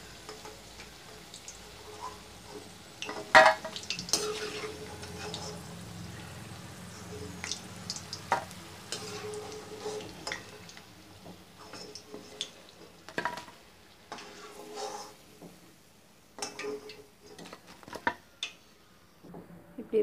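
Ivy gourd pieces frying in oil for a manchurian, a faint steady sizzle with sporadic clicks and clatters of a spoon, fairly quiet and without talk.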